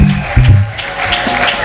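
A church congregation applauds and cheers in bursts at a worship convention, claps and shouts rising and falling with voices mixed in across the crowd.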